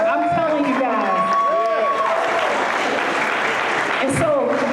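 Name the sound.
applause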